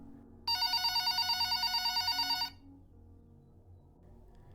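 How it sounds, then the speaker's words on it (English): A telephone bell rings in a steady burst of rapid, even pulses for about two seconds, fairly loud against a quiet room, then stops, during a night shift. "when the phone rang again"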